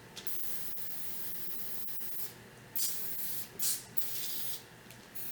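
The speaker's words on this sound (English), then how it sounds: "You can spray some down the top here." Short bursts of penetrating lubricant spray onto the screws and action of an old Mk II Martini-Henry rifle, several close, sharp hisses with small clicks and handling noises between them.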